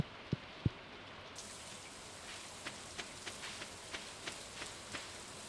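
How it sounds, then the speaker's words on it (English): Rain in the Stardew Valley video game, a soft steady patter with a few faint drip-like ticks spread across the clip, quiet and alone with no voices. "It's a rainy day."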